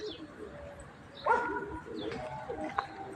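A few soft, low bird calls, likely a pigeon cooing, rise out of quiet outdoor background noise in short bursts spaced a second or so apart.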